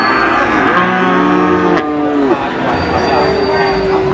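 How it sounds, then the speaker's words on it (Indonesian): A cow called Metal at the Wage cattle market in Pati lowing loudly and close, with long drawn-out moos that rise and fall over a dense crowd and market din. "Ini ada sapi si metal ini."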